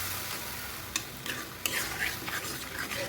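Roasted mango chutney is stirred in a pan over a gas flame, a soft continuous sizzle with occasional scraping knocks of the spoon, quiet and close with no talking.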